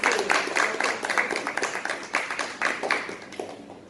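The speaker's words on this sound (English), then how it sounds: "let's welcome the three panelists with a great round of applause" A live audience gives a warm round of applause to welcome three panelists onto a talk stage, dense hand clapping at a steady level from start to finish with no voices over it.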